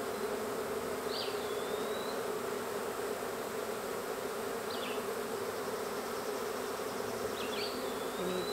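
A rescued honey bee colony in an opened hollow-tree hive hums in a dense, continuous drone, close and even throughout, with a few thin, high chirps rising briefly above it. No voices.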